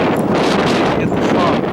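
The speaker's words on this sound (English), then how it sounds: "it's kind of windy" Strong wind buffeting the microphone, a loud, rough rumbling gust that roars continuously without pause.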